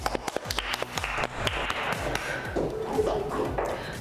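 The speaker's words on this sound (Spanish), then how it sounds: "Aplausos para ella." Audience applauding a model at a Copa América fashion runway show in Lima, a burst of close, sharp hand claps that thins into scattered clapping, with no speech.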